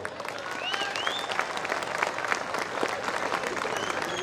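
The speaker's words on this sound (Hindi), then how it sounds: "दोस्तों, आपका दिल धड़क रहा है तो तालियां बजा दीजिए।" Applause from a mushaira audience fills a hall, a steady dense clatter of many hands holding at even strength, with faint voices mixed in underneath.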